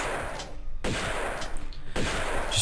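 Gunfire rings out in the video game Tomb Raider 2 Remastered, with three sharp, loud shots spaced about a second apart, each trailed by a decaying rumble.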